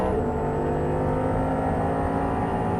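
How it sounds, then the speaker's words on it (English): An Audi R8 engine drones loudly and steadily from inside the car on a track, a constant heavy hum with a high whine above it and no talking. "Now start squeezing on that throttle just a little bit."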